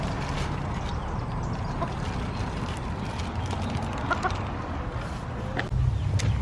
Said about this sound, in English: The chickens are all around me